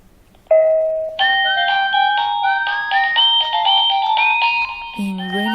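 A wireless Tivdio T10D video intercom doorbell plays its ringing melody: a clear electronic chime of stepped tones that rises and falls at a steady pace, loud and close, ending on a lower held note.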